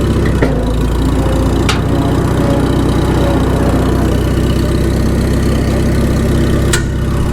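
An old tractor engine that has sat for a while runs at a steady, loud, low idle, with occasional sharp clicks as the grabby clutch is worked and gears are selected; no voices.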